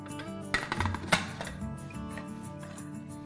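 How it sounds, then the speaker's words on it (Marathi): Metal clatter of a lid being fitted onto a pressure cooker in a home kitchen, a few sharp clinks and knocks around the middle, then a softer metallic rattle fading out. "आता कुकरला मी झाकण लावते."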